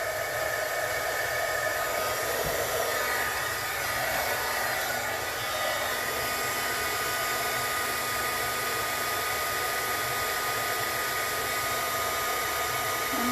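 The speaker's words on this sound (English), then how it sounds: "So I'm going to turn on my heat gun, give it a second to warm up" An electric heat gun blows steadily to melt embossing powder for card stamping, a constant, even whooshing hum running unbroken throughout with no talking.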